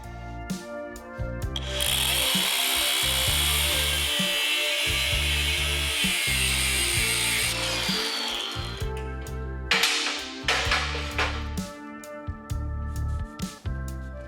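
A power tool cuts the mounting pad off the back of a cross member tube on a Camaro race car, a loud sustained grinding whine with harsh hiss, broken by short pauses and restarts, with no talk.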